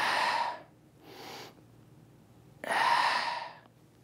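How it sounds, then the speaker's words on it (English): Deep breaths drawn in and out through the nose during a chest-opening stretching exercise for headaches and neck tension: a long inhale, a short one, then another long audible breath, close and alone. "Try breathing through your nose as well."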